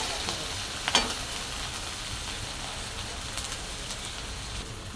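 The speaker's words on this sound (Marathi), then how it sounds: "बघा आपला कांदा टमाटर ब्राऊन होत आहे का" Onion, tomato and chilli frying in a pan give a soft, even hiss with light stirring scrapes and one brief clink near the start, fairly quiet and close, with no talking.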